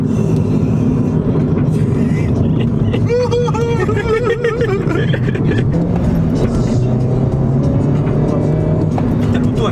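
A mini GP car on a track runs loud and close throughout, engine droning and shifting pitch through braking and cornering, with a rider's voice heard over the motor.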